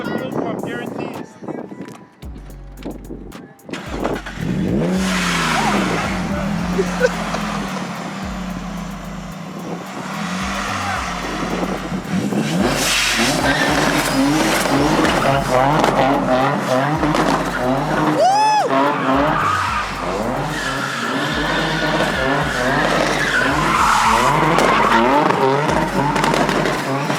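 A boosted Nissan 350Z with a fuel pump problem and dying spark plugs idles roughly and revs up and down in loud, rising and falling sweeps with occasional pops, close by, while people talk and shout over it.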